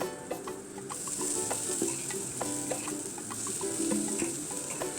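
Masala and soaked lentils frying in a pan for a banana flower vegetable dish, with steady close sizzling and scattered clinks and scrapes of a spoon stirring, no voices.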